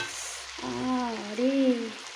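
Meat fries in very hot oil in a large wok and is stirred, giving a close, steady sizzle with a brief scraping stir partway through.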